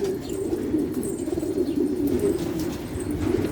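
Homing pigeons in a coop coo continuously in a low, throbbing chorus, close and steady, with occasional faint chirps and wing flutters.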